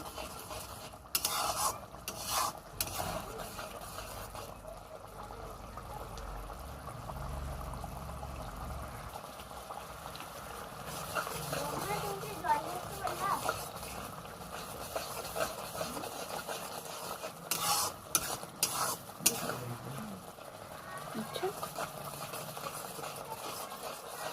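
Tomato chutney cooking down in a pan for a traditional Bengali recipe, a soft scraping stir with low bubbling, and a few brief louder clatters throughout.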